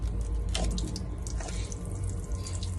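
Water streams from three holes at different heights in a full bottle, making a steady, close splashing trickle that runs without a break.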